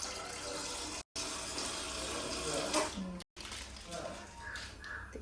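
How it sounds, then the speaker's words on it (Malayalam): Tap water runs for a milk sharbat, a steady close splashing stream that swells and fades, with two brief dropouts in the flow. "കുറച്ച് വെള്ളം ഒഴിക്കണം."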